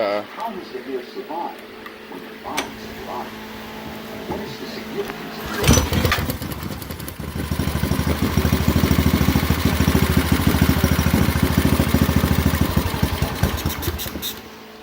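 A small gasoline engine on a homemade fun buggy, an older motor that has sat unused for a while, cranks and starts partway through, then runs loudly at a steady rough idle. Quieter rattling and handling noises come before it starts.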